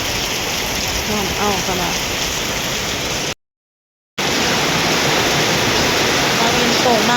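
Heavy rain pours down in a steady, loud, dense hiss close by, briefly cut off midway, with a voice speaking faintly underneath.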